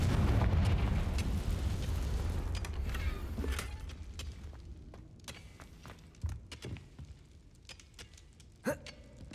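Fiery Confringo spell blasts in Hogwarts Legacy: a loud rumbling explosion with low roar that decays over several seconds, followed by scattered sharp cracks and pops, with faint voice underneath.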